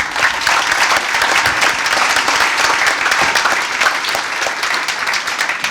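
Steady, dense applause fills a school board meeting room for about six seconds, many people clapping at once in an even, loud wash of sound with no talking over it.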